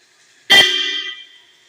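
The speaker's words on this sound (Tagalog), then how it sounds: "yun yung tunog ng dalawang set na busina." A single loud horn blast from a Toyota Fortuner fitted with two sets of horns, bright and piercing, held for under a second before cutting off, with near silence around it.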